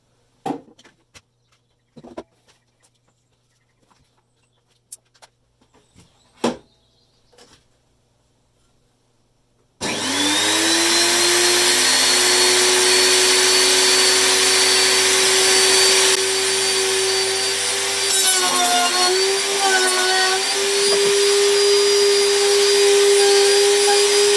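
After some quiet clicks and handling knocks, a Lumberjack RT1500 router table motor switches on and runs loud and steady with a high whine, its pitch dipping briefly near the end.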